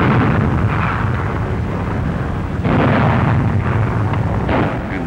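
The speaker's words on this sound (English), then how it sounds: "Every gun swung into action with an unleashed fury." Warships' naval guns fire during the WWII assault on Walcheren, a loud, continuous rumble of heavy booms and blasts that swells midway and again near the end.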